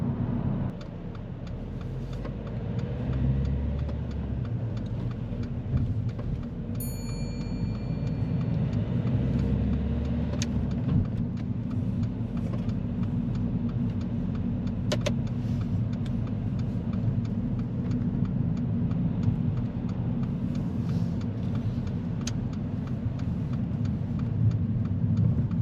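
A car on the road during a driving test, a steady engine hum and tyre rumble from inside the cabin, continuous for nearly half a minute with a few faint clicks and beeps, no one speaking.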